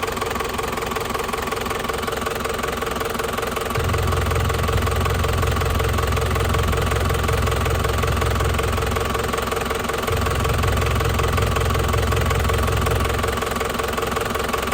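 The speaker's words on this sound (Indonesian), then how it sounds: "Tak sepil ya mesinnya" A 2004 Black Panther engine runs steadily at idle, a continuous close mechanical drone with a faint knocking pulse and a heavier low rumble that swells in for long stretches.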